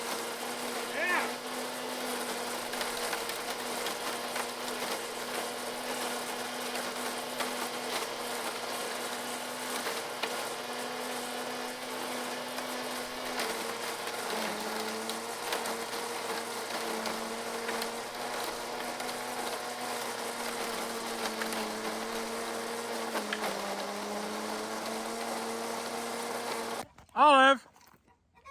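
A WORX leaf mulcher runs with a steady, loud droning motor hum that holds nearly unchanged for about half a minute, dipping slightly twice before a sharp burst of noise at the end.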